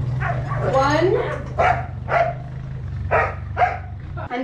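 Sled dogs in an Alaskan dog yard give short yips and barks in quick bursts, close and lively, with a person talking alongside.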